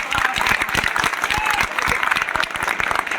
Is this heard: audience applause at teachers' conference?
yes